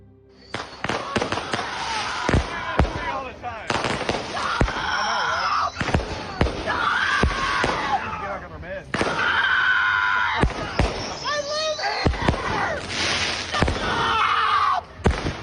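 Fireworks crackle and bang repeatedly in irregular bursts outside a home while a woman screams loudly and continuously at the people launching them.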